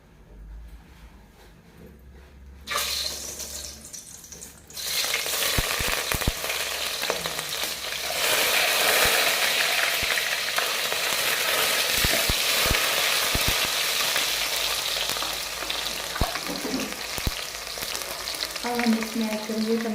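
After a few quiet seconds, onions hit hot oil for a restaurant-style mixed vegetable dish and a loud, dense sizzle takes over. Stirring runs through it, with no voices.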